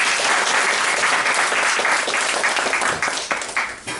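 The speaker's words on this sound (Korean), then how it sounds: "박수!" A room of sales consultants at a morning sales meeting breaks into loud, dense clapping that holds steady, then thins into a few scattered claps near the end.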